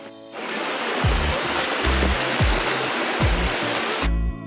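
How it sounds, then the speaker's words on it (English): Stream of water rushing through a rocky gorge, a loud, steady broadband roar that stays close, with low thumps from movement recurring through it. "Still heading down in this gorge. Water on the left."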